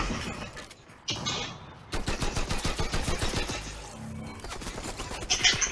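Close automatic gunfire in Fortnite rattles in fast repeated bursts after a brief lull. Crashing impacts are mixed in, and the shooting fades somewhat toward the end.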